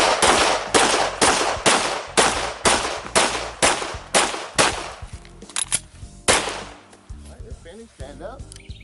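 Pistol shots ring out on an IDPA shooting stage: about ten sharp, loud, closely spaced reports in a rapid string, then a pause and a few scattered quieter cracks and clanks, with a voice briefly heard.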